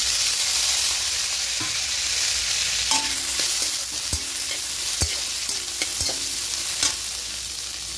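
Carrots, tomatoes and green chillies are stir-fried in a pan for vegetarian dalia pulao, a loud continuous sizzle broken by regular spatula knocks and scrapes against the pan, with no voices.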